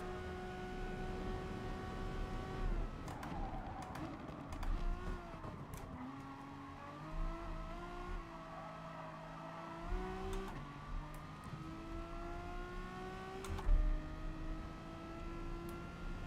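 In GT Sport online racing, including a Renault Megane, race car engines drone and rise and fall through gear changes, with several cars close together and a tire squeal, steady and unbroken with no talk.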